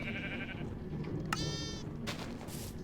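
Sheep bleat in a Minecraft-style game farm, a few short wavering bleats in a row, clear and close over a steady low background.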